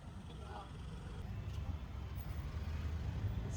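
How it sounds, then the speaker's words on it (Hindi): Heavy road traffic on a busy Mumbai street makes a dense, continuous rumble of engines that grows slightly louder over time, with a faint voice underneath. "इतना ट्रैफिक है भाई, इतना ट्रैफिक है, क्या बताऊं।"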